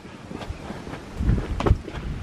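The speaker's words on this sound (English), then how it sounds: "It's windy, so we might get some wind chill" Outdoors on a countryside ramble near Bowland Bridge, wind gusts buffet the microphone in a low rumbling rush that swells and eases, with faint rustling underneath.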